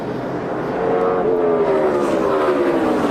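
NASCAR stock cars race around an oval track during a 2018 race: a loud, continuous engine roar with a slowly shifting pitch as cars pass close by, steady and unbroken.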